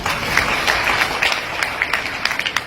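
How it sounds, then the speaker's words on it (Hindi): Audience at a business meeting clapping, a scattered patter of applause at moderate distance that thins out toward the end. "जोरदार तालियां भी चलिए।"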